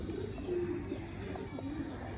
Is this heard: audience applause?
no